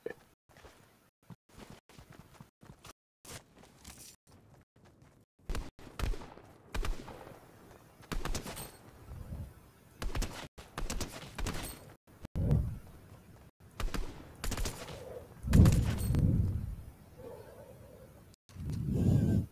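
Gunfire in a Fortnite match, with irregular sharp shots and short bursts scattered through the clip, some louder and closer toward the end, along with footsteps and quieter stretches between them.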